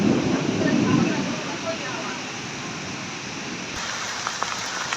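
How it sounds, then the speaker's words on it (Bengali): Rain falls in Shariatpur, Bangladesh, driven by gusty wind. A dense hiss swells louder at first, then settles into a steady, even patter. "শরীয়তপুরে সেই রহমতের বৃষ্টি এখন হচ্ছে।"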